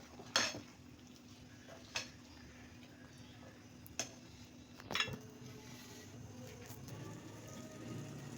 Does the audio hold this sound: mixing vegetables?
yes